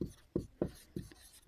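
Chalk or marker strokes on a classroom board during a physics lecture: four distinct taps and scrapes in an even rhythm, close and fairly quiet.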